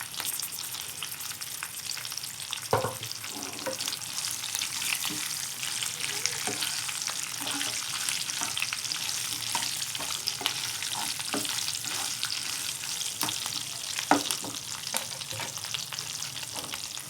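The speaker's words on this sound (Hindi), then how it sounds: "इसको फ्राई करेंगे" Nigella seeds (kalonji) and spices fry in a pan of oil for mung and masoor dal, a steady close sizzle and crackle running throughout, with a few sharper pops and stirring scrapes and no talking.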